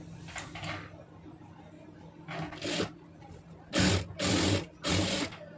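A sewing machine stitches around a chudidhar neck in short whirring bursts, a few quick runs at first, then three longer close runs, with light room noise and a voice speaking between them.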